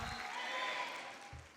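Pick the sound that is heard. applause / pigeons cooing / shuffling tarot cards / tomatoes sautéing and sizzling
applause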